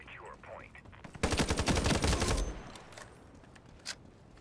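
Rapid hip-fire gunshots in the online shooter Ironsight, a dense burst of roughly a dozen shots over about a second, followed by a lone shot later, with faint game ambience around it.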